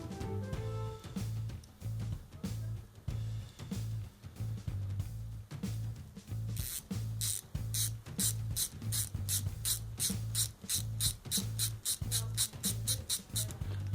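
Repeated ratchet clicks from a mechanism tightening on a 3D printed stainless steel and brass robotic exoskeleton, a steady rhythmic series of sharp close clicks that speeds up over a low mechanical hum.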